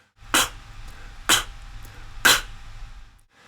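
A mouth imitates a snare drum with three crisp, airy K clicks, spaced roughly a second apart, close-up against a quiet background.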